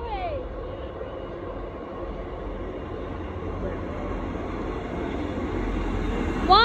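Two-carriage train 158788 passing at Ely station on its way to Sheffield, a loud steady rumble of diesel engine and wheels on track held throughout, with a squeal of wheels or brakes near the start and end.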